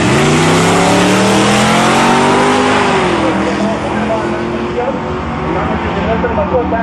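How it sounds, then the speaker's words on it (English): Honda and Mazda cars drag racing down the strip at Tarlton Raceway, a loud sustained engine roar rising in pitch through the run, with commentary heard over the top throughout. "Now let's see if the Honda can catch up to the Mazda."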